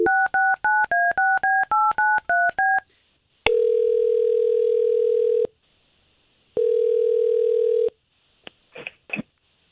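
A rapid series of touch-tone keypad beeps, followed by two long steady ringback tones separated by silence, then faint clicks.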